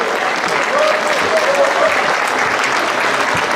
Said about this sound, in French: Et je pense qu'on peut applaudir les professeurs.